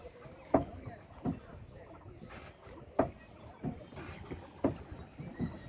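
A boat crossing a river at a ghat, with faint water lapping and a regular creak or knock coming every second or so, soft and close, while quiet voices sit low in the background.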